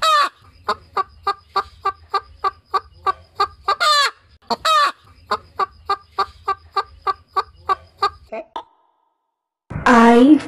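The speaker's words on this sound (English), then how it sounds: "H for hen." A hen clucks in a steady, repeated rhythm of short, bright calls, pausing briefly, then a drawn-out squawk at the end.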